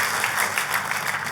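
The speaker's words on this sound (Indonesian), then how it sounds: "Kasih tepuk tangan buat Tuhan kita yang luar biasa." A church congregation claps together during a sermon, a sustained wash of applause at moderate volume with no voice over it.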